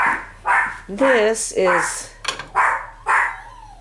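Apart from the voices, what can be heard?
dogs barking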